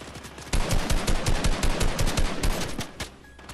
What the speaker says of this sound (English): Somebody's shooting from across.